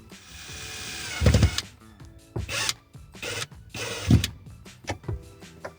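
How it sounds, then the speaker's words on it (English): A power drill with a Phillips bit drives a screw while installing a Delta beverage faucet, heard as short bursts of whirring with thuds and handling noise in between, close by. "I'm gonna take my drill with a Phillips bit and I'm gonna screw it the rest of the way in"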